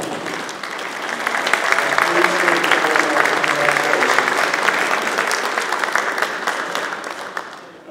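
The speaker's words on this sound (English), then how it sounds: "Let's give her a round of applause." An audience gives a round of applause, with dense clapping that swells quickly and holds strong and close, then slowly tapers near the end.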